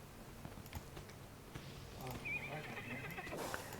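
A pet horse in the online fantasy game Lord of the Rings Online gives a clear whinny amid soft hoof clip-clops and faint keyboard tapping, fairly quiet overall.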